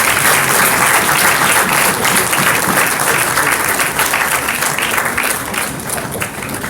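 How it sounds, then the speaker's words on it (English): Audience at a moot court competition's valedictory function applauds the winners, loud sustained clapping from a crowd that tapers slightly toward the end. "Please give them a round of applause."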